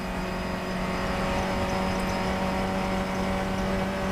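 Funcup race cars lapping Croft circuit, a steady loud engine drone with sustained tonal hum and no break over about four seconds, no talking.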